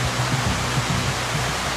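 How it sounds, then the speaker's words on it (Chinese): A waterfall's steady rushing water fills the air, loud and continuous at close range, with a faint low hum pulsing beneath it. "我们现在可能只有一个选项了，只能从中间这个瀑布下去。"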